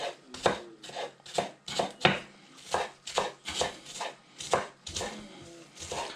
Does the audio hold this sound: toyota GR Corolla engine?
no